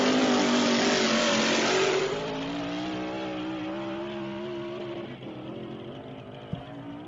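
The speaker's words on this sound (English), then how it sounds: "That is a 58 cubic inch Roush Yates NASCAR engine. In that 1934 Ford Roadster." A 58 cubic inch Roush Yates NASCAR engine in a 1934 Ford Roadster, run at an SCTA land speed racing meet on El Mirage dry lake, roars loudly at full throttle for about two seconds, then settles into a steady, slowly fading drone.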